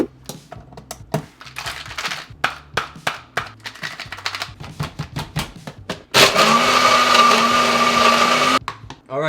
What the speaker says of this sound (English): So let's blend this up.